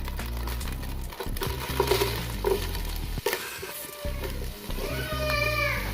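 Onions sauté in a hot pot for stewed peas and pig's tail, sizzling in a steady, dense hiss that goes on throughout, close and loud, with spoon stirring and occasional scrapes over it.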